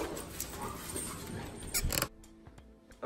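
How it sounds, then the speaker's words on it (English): Dogs bark in short, sharp bursts outside at morning, loud and close, over background rustling and noise, then quieter clicks and creaks after the barking stops. "They constantly bark at me right when I get here."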